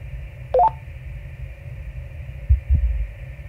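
A low, muffled heartbeat comes through radio audio in the space video game Voyager-19 over a steady electronic hum, with a brief bright beeping tone near the start.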